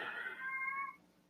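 A single cat meows outdoors, a clear drawn-out cry of about a second, moderately quiet and heard from a little distance, with no talking.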